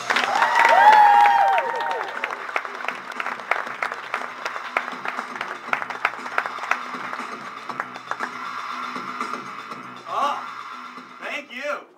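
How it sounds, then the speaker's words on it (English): Comedy-club audience applauding and cheering as stand-up comic Sean Flannery takes the stage: steady clapping runs beneath a voice and background talk, with a louder swell near the start and occasional whoops, fading toward the end. "please put those hands together and cheer really loud for Sean"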